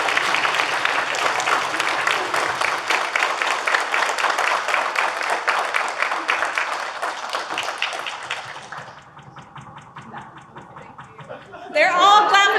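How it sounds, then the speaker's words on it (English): Applause at an emergency communications awards ceremony in Williamson County for the telecommunicator of the year, a sustained dense clapping crowd that thins out toward the end before a voice begins speaking. "They're all clapping upstairs for you too."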